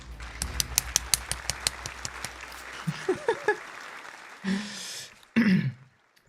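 A short burst of sparse, crisp applause in the game Humankind fades out, followed by a few throat-clearing and breathy vocal sounds.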